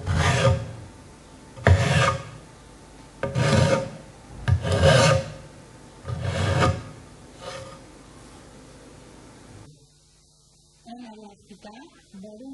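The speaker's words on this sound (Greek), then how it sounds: "Και χρησιμοποιώντας τη λίμα, αφαιρούμε τα υπολείμματα ξύλου." A hand file rasps across wood clamped in a vise in six steady strokes, each a loud, close scraping burst separated by short pauses, before the strokes stop and a voice speaks.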